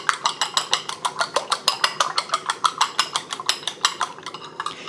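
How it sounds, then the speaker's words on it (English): Eggs being lightly beaten in a bowl with a utensil make a steady run of quick, evenly spaced clicking taps, close and clear, slowing slightly toward the end. "Just going to lightly beat my eggs."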